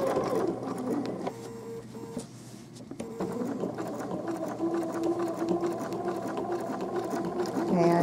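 Sewing machine stitching slowly around a fake trapunto appliqué on a quilt, a steady close mechanical whir with brief pauses and speed changes, under faint background talk.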